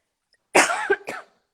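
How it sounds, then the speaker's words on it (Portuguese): A burst of harsh coughing, two or three close, loud coughs in quick succession, with no talking around them. "deu um acesso de tosse"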